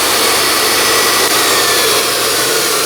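A grinder running on a South Bend C9W lathe while grinding dead centers, a loud, steady high-pitched whine with a constant hiss, close and unbroken throughout.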